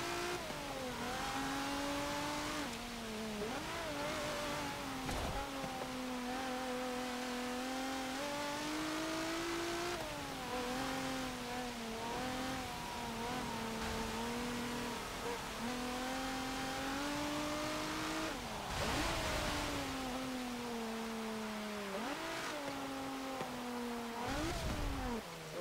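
The engine of a 1986 Dodge Shelby Omni GLHS strains through a racing lap in Forza Motorsport 7. It drones continuously, rising through the revs and dropping sharply at each gear shift, with brief dips for braking.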